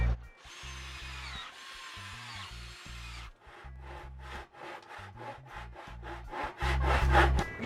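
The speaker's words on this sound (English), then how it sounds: "So I'm going to fasten the first 2 together, and we're going to do that with sheetrock screws." A power drill drives sheetrock screws to fasten plywood sheets together for a cat tree: repeated short whirring bursts of the motor, some rising in pitch, with brief gaps and a louder final run, close up and without speech.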